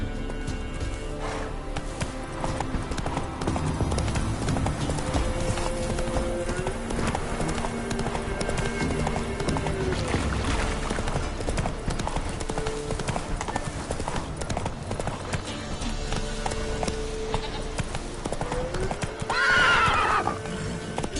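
Roach, a horse in a video game, gallops with rapid steady hoofbeats over a dense backdrop of game music, and a whinny rises near the end.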